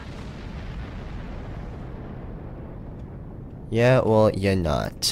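Plasma torpedo firing and exploding in the space game Star Trek Online: a steady, loud rumbling roar of weapon fire and blast sustains throughout, with a voice talking over the final stretch.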